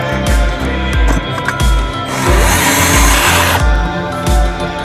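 A power drill whirs in short repeated bursts, loud and close, with brief pauses between pulls and a longer steady run in the middle, while a right-hand-drive Endeavor is modified for dual controls.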